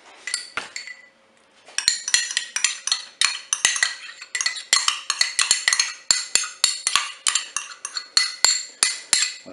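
Metal spoon scraping and clinking against a pot while cream is added and stirred in a turkey penne with lemon dish in a Cookeo cooker; rapid, close, repeated scrapes and taps with no talk.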